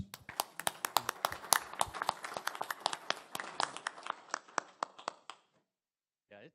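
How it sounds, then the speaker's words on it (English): A small group at a board meeting claps for an employee of the year, distinct individual hand claps close by, irregular and fading out after about five seconds into near silence. "How about a round of applause?"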